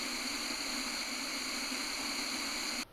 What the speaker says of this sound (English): Now we've got our Sena 50R pink noise test.